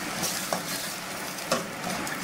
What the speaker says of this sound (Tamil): இது வந்து ரெண்டு சேர்ந்து கொஞ்சம் நல்லா வதங்கணும், ப்ரௌன் கலரில் ஆகிற அளவுக்கு நல்லா வதங்கணும்